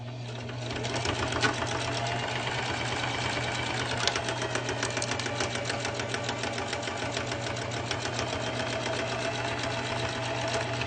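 A sewing machine running continuously as it stitches a cloth face mask shut, a fast, even mechanical whirring with a steady hum, close up and alone for the whole stretch.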